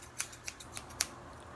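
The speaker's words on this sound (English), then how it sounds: "If it's scissors and you were just snipping" Scissors snip several times in an uneven rhythm, four or five crisp, close metallic cuts spaced a fraction of a second apart in an otherwise quiet room.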